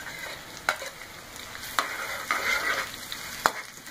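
Garlic and onion sauté in a pan, a moderate sizzle close by broken by several sharp scrapes and clacks of a utensil stirring at uneven intervals.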